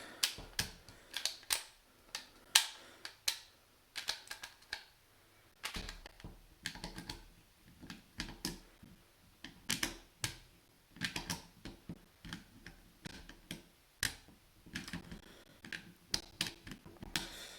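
The spring guide is released with a quarter turn during disassembly of an ARMY KU906 AUG airsoft gun gearbox. Many crisp, close clicks and small plastic-and-metal clatters come in an irregular, steady stream.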